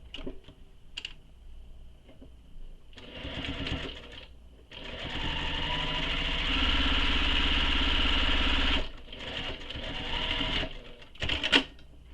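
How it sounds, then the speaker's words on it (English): Sewing machine top stitching a tote bag, running in short bursts that settle into a long steady whirring run of several seconds, then a few more brief stitching spurts and clicks, close and fairly loud. "I'm going to turn it and stitch on the same side where I started."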